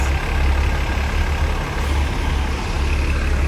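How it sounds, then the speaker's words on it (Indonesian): Heavy trucks and buses idle in a long traffic jam at a red light, a steady deep engine rumble droning close by and unbroken throughout, with no voices over it. "Oh tumben macet ya guys"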